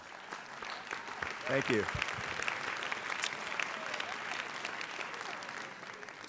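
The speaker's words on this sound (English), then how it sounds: "Nice round of applause for the panel." Audience applause for a policy panel at a Carl B. Stokes legacy event, steady and sustained throughout, with a brief spoken thanks near the start.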